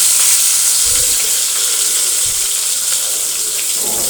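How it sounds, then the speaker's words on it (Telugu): Green chillies, tomato and onion fry in oil in a kadai, a loud, dense hiss of sizzling that stays steady throughout, with a few low thumps from stirring. "కడాయి పెట్టేసేసి 2 స్పూన్స్ ఆయిల్ వేసేసుకొని ఇప్పుడు పచ్చిమిర్చి, టమాటా, ఉల్లిపాయ వేసుకోవాలి"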